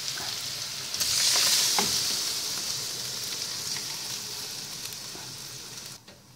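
Pork laing simmers in a pot of coconut milk on the stove, a steady bubbling sizzle that swells loudly at the start and then eases, with faint stirring scrapes, before cutting off near the end.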